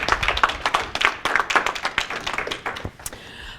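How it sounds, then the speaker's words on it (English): Scattered clapping from a modest college debate audience, a few dozen hands beating in uneven bursts that thin out and fade after a few seconds. "Another round of applause, please,"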